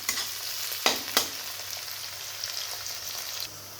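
Onions fry in hot oil with green chilies, giving a steady bright sizzle, with two sharp stirring scrapes early on. The sizzle continues evenly before it drops off near the end.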